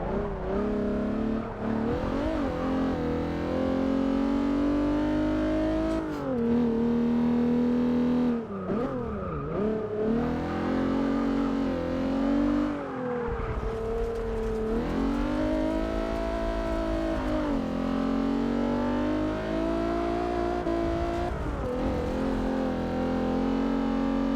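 A race car engine in Forza Motorsport 6 whines continuously, pitch rising and falling through gear shifts and revs, with brief tire squeals along the way.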